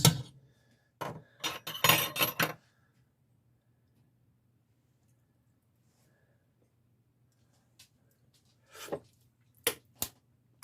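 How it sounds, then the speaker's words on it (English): A spoon clinks and scrapes against a metal pot while stirring tuna casserole sauce, a quick cluster of close clatter followed by quiet, then a few more scattered taps. "Give it a good stir."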